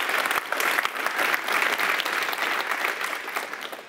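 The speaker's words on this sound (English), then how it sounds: "A warm applause for Gavin" An audience at a blockchain technology meetup gives Ethereum co-founder Gavin Wood warm applause, loud dense clapping close by that holds steady for several seconds before easing off slightly at the end.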